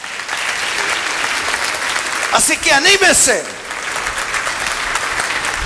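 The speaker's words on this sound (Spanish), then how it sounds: "¿Cuántos le dan un aplauso al Señor por todo lo que nos pasa?" Sustained applause from a church congregation during a Spanish-language resurrection service, loud and steady for nearly six seconds, while a preacher speaks briefly over the clapping midway through.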